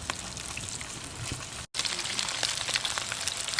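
Salmon searing in a pan for a brown stew salmon dish, a loud, dense, crackling sizzle heard up close, with a brief cut of silence partway through.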